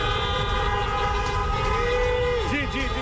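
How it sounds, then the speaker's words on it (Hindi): Car horns blare from a celebrating street crowd in Washington DC, with sustained overlapping honks that sound steadily, then a few short toots at the end, over a dense background of traffic and crowd noise. "मेरे पीछे लोग कार हॉर्न कर रहे हैं, दिखा रहे हैं कि वो कितने खुश हैं।"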